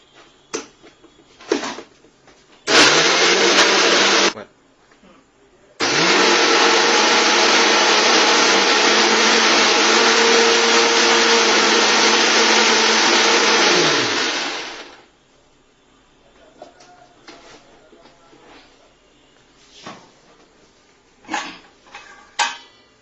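An electric mixer grinder whirs loudly while grinding tomato gravy in a home kitchen, first in a short burst, then in a long steady run of about nine seconds that winds down, with clinks and handling noises around it.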